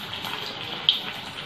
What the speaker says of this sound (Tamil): அப்படியே எண்ணெயில் போட்டு பொரிச்சிடலாம்.